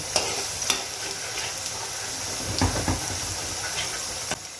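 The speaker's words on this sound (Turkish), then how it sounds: "direkt soğanlarımız bol yağın içinde kızarmaya başladılar bile. Karıştırıyoruz şu şekilde." Onions sizzle in plenty of hot oil for lentil patties, with steady crackling frying throughout and occasional sharp scrapes and clicks of stirring close to the pan.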